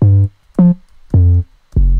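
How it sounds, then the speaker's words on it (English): Four deep 808 bass notes from a drum kit in Logic Pro, each a sustained, booming low tone with pitch glides at the attacks, played in an evenly spaced sequence, loud and alone. "And we've got this 808 here"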